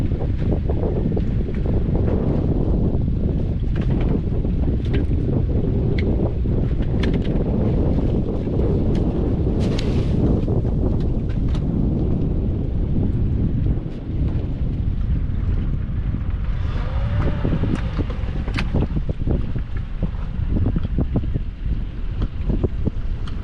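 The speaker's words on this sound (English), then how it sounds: "This wind makes things a little rough for me." Strong wind buffets a boat out at sea, a loud, constant roar of gusts battering the microphone with rumble and crackle and no letup.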